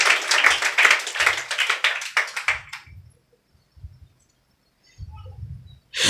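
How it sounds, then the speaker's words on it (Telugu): A congregation claps at a Sunday church worship service: a burst of dense, fast hand claps runs for about three seconds, thins out and stops, leaving near silence with a few faint low thumps. "చప్పట్లు కొట్టండి."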